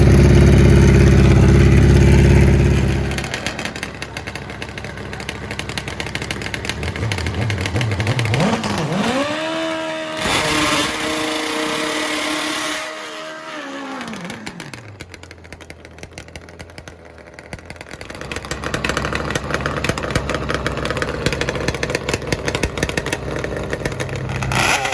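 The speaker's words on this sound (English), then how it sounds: "Rick Steinard in the ZX14 left lane." Kawasaki ZX14 motorcycle at a drag race, its engine idling loudly up close before revving in rising and falling sweeps, then settling back to a steady idle.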